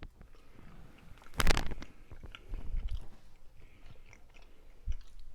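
Close chewing of smoked pulled pork, with soft wet mastication and a sharper bite or crunch early on, continuing in uneven rhythm without talk.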